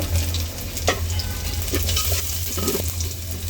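Chopped garlic sizzles in hot oil in a cooking pot as the tempering for nihari begins, a steady close crackling hiss broken by occasional scrapes and stirring clinks, with no talking.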